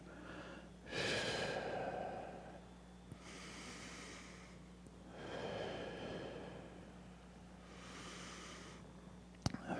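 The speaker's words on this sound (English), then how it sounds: "breathe out, breathe in. So you're always breathing out away from the center and breathing in towards the center" Slow, deliberate breathing exercise, long breaths in and out through the nose and mouth in three broad swells, with a soft snort-like edge and a low steady hum underneath, no talking.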